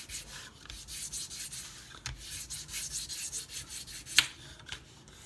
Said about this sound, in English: So I always make sure I sand all my light colored pieces first.